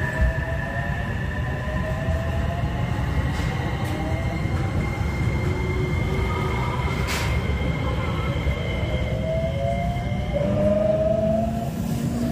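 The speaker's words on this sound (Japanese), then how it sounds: "対向列車は225系の L 編成ですね。" A 225 series train rumbles past close by, a steady heavy roar of wheels on rails with occasional squeals and metallic whines.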